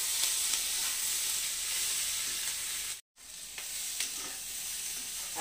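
Eggplant slices sizzle steadily in garlic-flavoured oil, a close, continuous crackling fry with a brief dropout midway, no voices over it.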